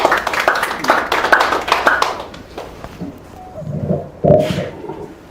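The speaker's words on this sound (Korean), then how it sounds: "박수 한번 해주세요." A lecture audience claps for a pastor being introduced to give a talk, with dense applause filling the first two seconds before thinning into scattered claps and room noise.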